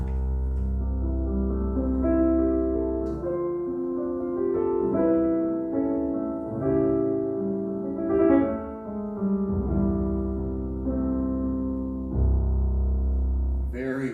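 Kawai CA99 digital piano set to a romantic voicing, playing a warm, sustained chordal passage with rich low bass notes and flowing melody, steady and close with no talking.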